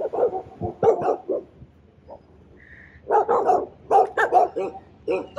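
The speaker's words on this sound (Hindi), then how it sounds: "वो अंदर कुत्ता है ना, उसकी वजह से वो भौंकने रहा" A dog barks in a series of sharp, fairly close barks with brief pauses between bursts, recorded outdoors on a mountain road trip in Tawang, Arunachal Pradesh.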